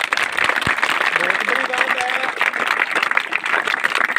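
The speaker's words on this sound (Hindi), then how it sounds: "एक बार तालियां हो जाए जी।" Audience clapping at a village cow-shelter event in Punjab, a dense, steady burst of many hands applauding outdoors, with voices talking over it.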